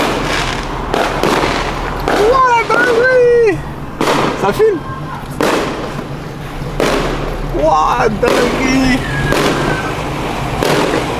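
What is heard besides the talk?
fireworks and firecrackers exploding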